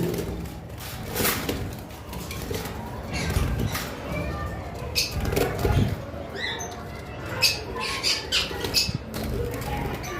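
Baby lovebirds squawking in an aviary setup, a string of sharp, close chirps and squawks with fluttering, while someone talks over them.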